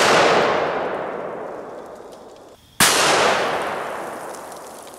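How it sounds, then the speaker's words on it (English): Two loud, sharp blasts from a .500 Smith & Wesson Magnum revolver firing 500-grain jacketed lead flat-nose rounds at a heavy Atlas stone. Each shot rings out and decays slowly, and the second follows a short silence. "let's hit it with the 500 Smith & Wesson Magnum"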